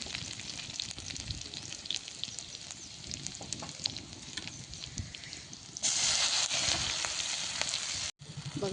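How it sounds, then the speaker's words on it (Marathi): Garlic sizzles and crackles in hot oil in a pan over a wood-fired clay stove, a steady close frying hiss that swells louder partway through, with no talking. "तेल आता बघा चांगलं तापलेलं आहे, त्याच्यामध्ये आपण आता लसूण टाकून घेतलाय"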